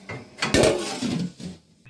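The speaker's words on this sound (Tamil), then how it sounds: "நம்ம இப்போ மூடியை போட்டுருவோம்" Metal clatter of a lid set onto a pot of chicken biryani, a few clinks and knocks in close succession, nearby in a quiet kitchen.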